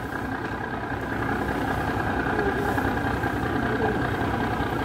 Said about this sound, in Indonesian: Dia mengawal crane ataupun mesin untuk memutarkan reel tadi.